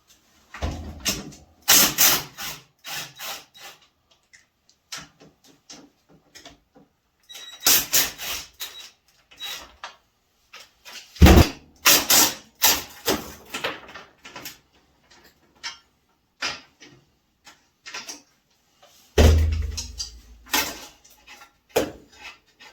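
Ratchet removing 12mm bolts on a Honda Foreman ATV, with close bursts of clicking and metallic clanks separated by pauses, some sharp knocks among them.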